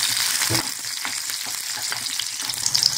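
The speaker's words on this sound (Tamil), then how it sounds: "எடுத்து வச்சிருக்க 2 பச்சை மிளகாவையும் இது கூட போட்டு வதக்கிக்கலாம்" Shallots and green chillies sautéing in hot oil, a loud close crackling sizzle broken by repeated spatula scrapes and stirring knocks, steady throughout without talk.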